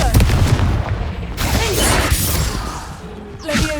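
A Confringo blast spell in Hogwarts Legacy bursts with a loud, close explosive crash and whooshing tail, followed by a second impact near the end.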